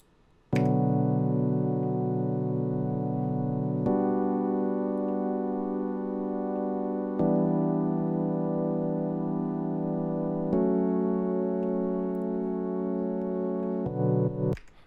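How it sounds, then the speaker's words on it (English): A sustained synth pad holds broad, smooth chords that change every few seconds, moving through a simple progression with no other instruments. "I put a simple pad with a simple chord progression"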